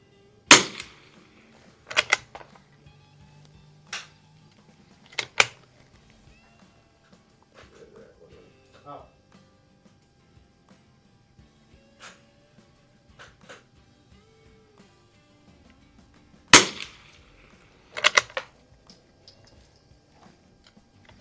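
Winchester 52D rifle firing CCI standard velocity ammunition at a range, sharp single shots spaced a few seconds apart, some in quick pairs, with quiet gaps between them.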